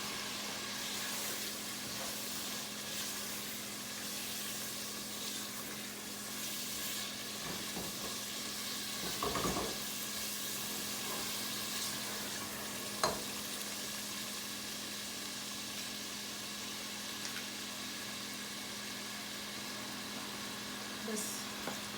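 Capsicum being stir-fried with noodle masala in a pan, a faint, continuous sizzle running throughout, with occasional soft clinks and scrapes of stirring; no talking.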